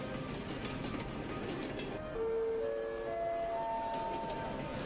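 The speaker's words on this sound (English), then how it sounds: "the train has arrived at Abuja Station" A passenger train pulling into Abuja Station in Nigeria, a steady rumbling rolling noise with rising tonal brake or motor whines as it slows, close and fairly loud throughout.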